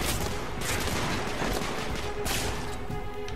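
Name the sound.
gunfire in the video game The Order: 1886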